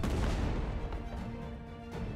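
A spinning launcher-type artillery weapon in the strategy game Sanctuary: Shattered Sun fires a shell, producing a loud, dense, rumbling boom that holds steady through the moment without any voice.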